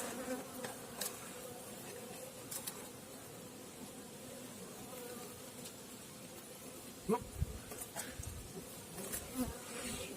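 Honey bees buzz steadily around a hive during late-September feeding, a dense continuous drone with individual insects passing close now and then; no talking.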